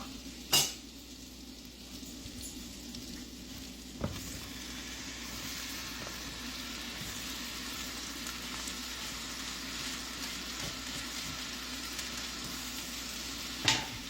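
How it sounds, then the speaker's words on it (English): White onions fry in melted homemade brown sugar in a pan, a steady soft sizzle with a few sharp utensil clinks against the cookware. "Mostly melted. Add the onions."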